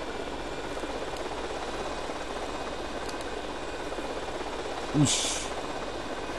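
A remote-control helicopter's engine drones steadily throughout a Grand Theft Auto: Vice City mission, a constant whirring hum with a brief sharper burst near the end, while someone speaks briefly.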